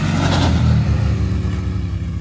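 A Cfmoto Cforce 800 and an R-Max side-by-side race from a launch, engines revving loud and steady while wheels spin on the ground, with no voices over the motor noise.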